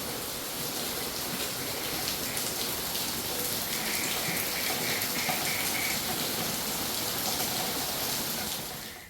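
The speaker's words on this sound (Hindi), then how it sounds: "पूरी दुनिया में बारिश पड़ रही है, लेकिन यहाँ सिर्फ आज पड़ी है। देखने में तो तेज लग रही है।" Heavy rain pours down outside, a dense steady hiss of water that stays even throughout before fading at the end, with no talking.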